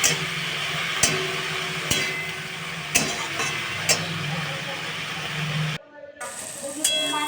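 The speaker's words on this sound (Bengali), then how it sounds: "শাকটা কিন্তু এবার একটু প্রায় ভাজা ভাজা হয়ে গেছে" Pea greens fry in a pan with salt and turmeric, giving a steady close sizzle with sharp stirring scrapes at intervals; the hiss cuts out briefly near the end and then resumes.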